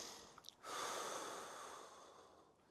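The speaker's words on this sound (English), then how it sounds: "Big breath out." A long, forceful breath out during a standing side-bend stretch with a resistance band held overhead, a steady airy rush lasting about two seconds and fading away, preceded by a short sniff.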